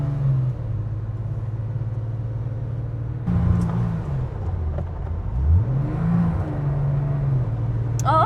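A 1970 Porsche 911T engine pulls up through a gear change while driving, its steady low drone rising and falling in pitch, loud and close throughout.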